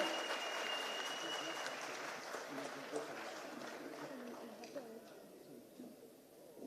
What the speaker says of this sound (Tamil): மீண்டும் ஒரு முறை ஒரு பெரிய கைத்தட்டல் கொடுத்துடலாம்.